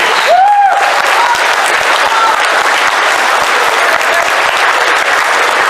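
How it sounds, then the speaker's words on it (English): Large Transformers fan convention audience at an opening ceremony applauding first-time attendees, loud, dense, sustained clapping filling the hall, with a brief cheer near the start. "Round of applause for our newbies."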